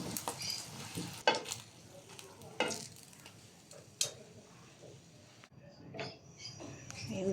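Eggplant slices frying in hot oil, a steady close sizzle with intermittent clinks and scraping of a utensil against the pan, no talking.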